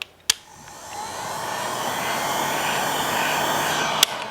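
A heat tool blows a steady, loud airy whoosh, like a hair dryer, over the center of a candle to warm the wax, with sharp clicks as it is switched on and off at either end.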